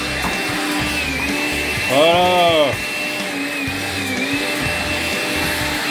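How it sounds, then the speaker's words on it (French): A small vacuum cleaner in a little home workshop runs with a steady whining drone, while a voice briefly speaks over it partway through. "j'ai mon petit aspirateur, comme ça, dès que j'ai fini, j'aspire"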